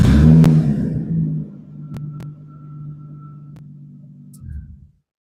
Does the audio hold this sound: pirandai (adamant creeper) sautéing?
no